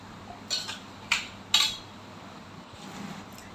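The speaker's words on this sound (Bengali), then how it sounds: "মিক্সিতে আমি মেশাবো না এই দইয়ের মিশ্রণটি যত ভালো করে মেশাবেন ততই ভালো হবে" Spoon hand-mixing a yogurt mixture for a yogurt sherbet drink, heard as three sharp clinks of the spoon against the bowl early on, then quieter scraping, close and alone with no talking.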